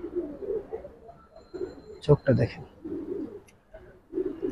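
Giribaz pigeons coo in soft, low rounded bursts throughout, with a louder flurry near the middle, while someone talks close by over them.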